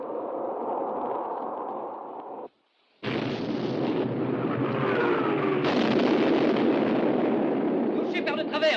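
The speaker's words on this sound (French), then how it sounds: "Feu avec l'artillerie principale." The main guns of a World War II battleship fire in a 1960 war film about sinking the Bismarck: a rumbling roar that cuts out briefly, then loud, dense booms and blasts that continue to the end.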